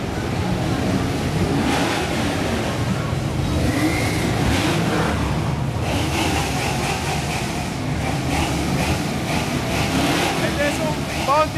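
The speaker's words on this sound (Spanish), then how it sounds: "Escuchen esto, los carros encendiendo, todos los motores encendiendo a la vez." Several muscle car engines fire up and rumble together at a Venezuelan muscle car festival with Camaros, Mustangs and Mopars, a loud continuous roar of idling and revving engines with crowd voices mixed in.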